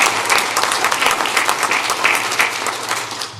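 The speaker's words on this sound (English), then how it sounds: "Let's give them all a big round of applause." Applause at a planetarium association's conference business meeting honoring scholarship committee members, a loud, dense burst of many people clapping together close by, sustained evenly for a few seconds before tapering slightly at the end.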